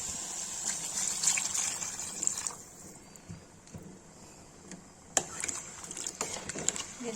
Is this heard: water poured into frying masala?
yes